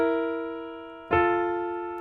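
Sustained chord made of tension and release notes rings alone, then a second attack near the midpoint re-strikes the harmony, and both soundings decay slowly and cleanly.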